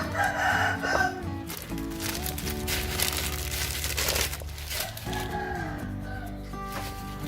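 A rooster crows in a drawn-out call close by, followed by clucking fowl and rustling, crinkling noises in the background.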